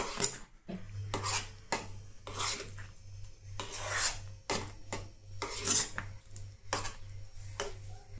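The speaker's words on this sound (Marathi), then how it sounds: "वेलचीची पूड ती बीन बरी मिक्स करून घेया।" Spoon stirring cardamom powder into a leftover-rice dessert in a pot, giving repeated rhythmic scraping and clinking strokes of metal against the vessel, close and moderately quiet.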